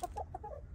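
Chickens in a backyard coop cluck in short, quiet bursts, a few close choppy clucks over faint outdoor background.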